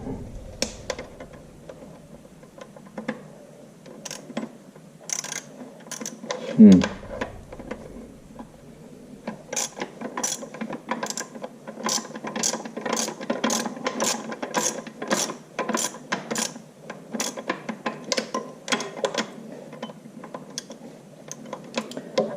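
A ratchet wrench clicks in rapid bursts while turning a 9/16 inch bolt on a Farmall Super MTA tractor, the pawl ticking steadily and close up, with brief pauses and a clunk partway through.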